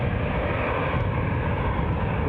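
An airliner departing Edinburgh Airport gives off a loud, steady, broadband engine roar that holds constant throughout, with no voices over it.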